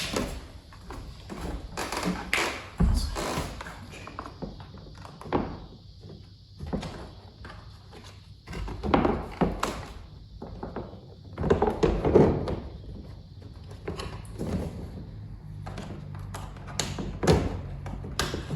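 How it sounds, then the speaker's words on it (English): Scattered plastic clicks, taps and thunks recur over several seconds as parts are handled and snapped together, close and fairly quiet. "Now I'm gonna snap the 2 pieces."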